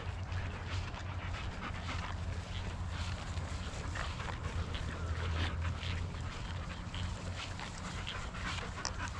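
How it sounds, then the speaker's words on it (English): Dogs pant rapidly and steadily near the microphone outdoors by a canal, a quick rhythmic breathing that runs throughout with a few soft whimpers and light background rustle. "these dogs look at me and this ball is right here"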